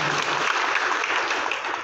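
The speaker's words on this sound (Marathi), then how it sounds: "आपण टाळ्या वाजवून त्यांना एकदा" Audience applause at a Marathi-language panel discussion, a dense, steady wash of clapping that stays loud and even throughout the short stretch with no voices over it.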